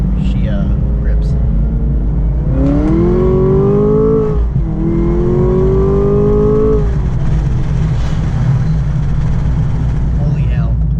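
A Chevrolet Camaro ZL1 engine revs hard in first gear, its pitch climbing steeply as the car accelerates, then dipping briefly and climbing again. The sound is loud and close over a steady road rumble.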